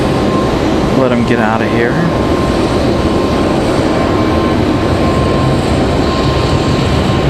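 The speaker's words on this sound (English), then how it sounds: "United going to use up a lot of the runway here as well, looks like." A United airliner taking off at Raleigh-Durham International Airport gives a loud, continuous broadband engine roar that holds steady throughout, with someone talking briefly near the start.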